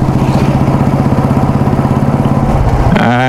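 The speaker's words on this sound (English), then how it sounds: "It's the Indore exhaust, which gives you similar feel to the original Bullet." A Royal Enfield Classic 350 motorcycle fitted with an Indore exhaust runs close and loud, its single-cylinder engine thumping in a steady, fast rhythm, then revving up briefly at the end.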